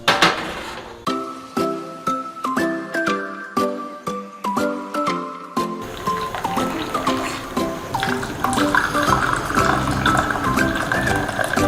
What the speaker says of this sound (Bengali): চলো এবার আমি ঢাকনাটাকে তুলে নেবো, তুলে কাপের মধ্যে ঢেলে নেবো